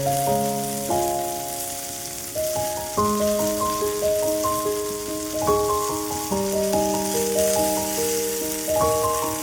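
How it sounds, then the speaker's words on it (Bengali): Eggplant frying in hot oil with onion and chili, a steady crackling sizzle that runs the whole time beneath louder melodic music. "ভালো করে আবার কষিয়ে নেব, ভাজা ভাজা করে নেব ব্রাউন কালার না আসা পর্যন্ত"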